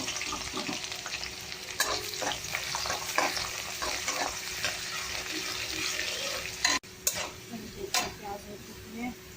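Chopped onion fries in hot oil with cinnamon, cardamom and bay leaf, a close, continuous sizzle broken by stirring scrapes and a couple of sharp knocks, with a voice talking lightly over it.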